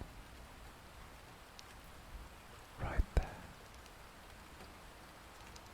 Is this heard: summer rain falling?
yes